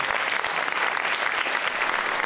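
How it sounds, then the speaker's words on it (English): An audience at a high school varsity jacket night applauds the principal, giving a steady, full round of clapping for a couple of seconds. "Let's give Mrs. Campbell a great round of applause."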